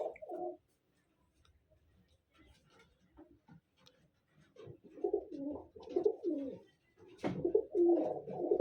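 Dooma pigeons coo in soft, repeated rolling bursts, close by and fairly clear, with a quiet gap early on and a sharp click partway through.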